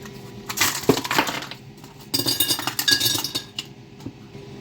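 Ice cubes dropped into a glass while preparing a cold apple juice drink with apple pieces and mint, giving two clusters of bright clinks and clatters, close and fairly loud, with no talking.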